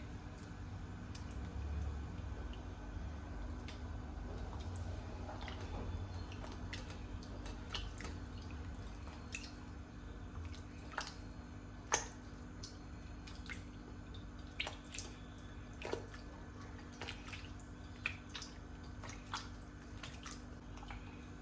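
Something is being washed in a steel pot with water in a home kitchen, giving scattered soft drips, splashes and wet squishes over a steady low background hum, fairly quiet and close.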